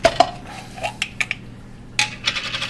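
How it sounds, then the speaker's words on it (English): Steel pan handled on a home stove while making gulkand rose jam, with a series of sharp metallic clinks and clanks of metal knocking against metal, irregularly spaced and close. "I have taken this steel pan, and I'm going to add this"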